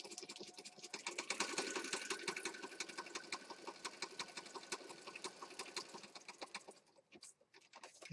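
A sewing machine stitches steadily around the edge of a pink and black junk journal page, running in a fast continuous whir with brief pauses near the end.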